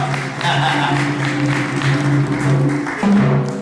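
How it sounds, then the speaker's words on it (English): Audience applause at a Bronx awards show fills the room steadily as a band comes up on stage, with music and a voice carrying over the clapping. "Put your hands together for Carl and Marcelo. Give it up."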